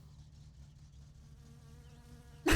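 A voice imitating a mosquito mixed with a vibrating phone on a table, a thin steady buzzing drone with a faint pulsing flutter, quiet and alone, ending in a sudden loud burst.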